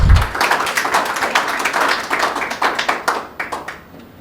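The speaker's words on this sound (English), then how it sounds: "let's give her a warm round of applause" A room full of people at a peace and sustainability forum applauding, dense steady clapping that swells briefly and then thins out toward the end.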